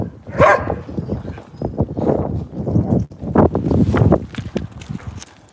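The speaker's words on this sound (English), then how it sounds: "Look at this big ass donkey right here." Donkey hooves clip-clop in an uneven, close rhythm of sharp knocks, with a few scuffing steps and a brief animal sound early on.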